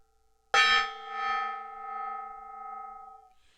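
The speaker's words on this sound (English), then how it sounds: "We are starting things off with a bang of a gong." A gong struck once to open a model-building workshop stream gives a bright, loud metallic crash that settles into a long shimmering hum, swelling and fading slowly over about three seconds with no talking.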